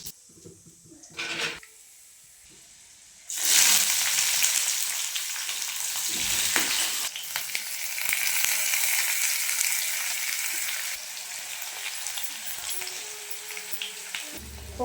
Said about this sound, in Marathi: आता वांग्याचं भरीत बनवायला चालू आहे